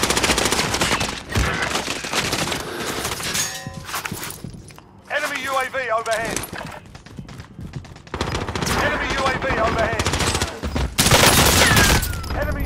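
Sustained automatic gunfire in the battle royale shooter Call of Duty: Warzone, loud and near, comes in long bursts broken by brief pauses, with metallic pings and a voice talking over parts of it.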